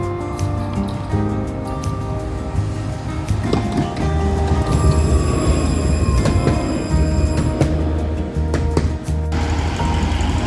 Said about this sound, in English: These are the kinds of trams you can see running along the streets and tracks of Moscow.